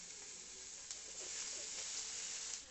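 Paneer pieces fry in oil in a pan for a restaurant-style matar paneer masala, giving a steady, faint hiss and sizzle with a soft tap near the start.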